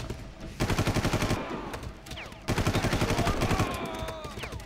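Rapid automatic gunfire in the shooter game Far Cry comes in two long loud bursts of evenly spaced shots, with short pauses and ringing tails between them.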